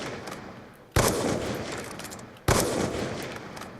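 Two loud, sharp gunshot blasts from a Black Ops 2 video game match, each with a long decaying rumble and echo, spaced about a second and a half apart.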